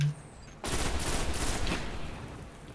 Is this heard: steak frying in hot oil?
no